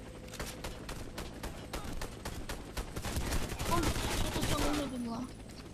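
Rapid bursts of gunfire from the online shooter Warface, repeated shots in a steady rhythm for most of the stretch, with a voice talking over it.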